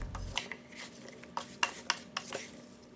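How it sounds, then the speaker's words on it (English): Apple butter ingredients with balsamic vinegar being stirred and mixed, soft scraping and rubbing with a few light clinks of a utensil against the pot, quiet and close, no talk. "go ahead and give it a good mix and make sure everything is combined"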